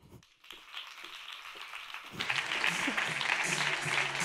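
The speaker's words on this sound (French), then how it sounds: "Merci de faire un tonnerre d'applaudissements pour Joël." Conference audience breaking into applause for a guest speaker, starting with a few scattered claps then swelling into loud, dense, sustained clapping across the hall.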